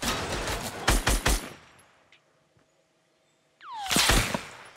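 Gunfire bursts in Fortnite Battle Royale: a rapid cluster of loud shots, a lull with faint distant reports, then another loud volley with a descending whistling tone near the end.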